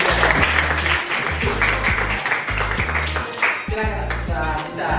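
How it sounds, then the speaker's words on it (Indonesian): An audience at a classroom teaching-practice session claps for a student group, a steady wash of applause lasting throughout, loud and continuous over a low background hum. "Sekali lagi beri tepuk tangan."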